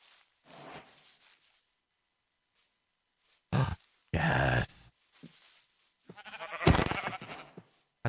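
Sheep in the Minecraft video game bleat in a few short, nasal cries amid brief spoken remarks and game sounds, fairly close and moderately loud.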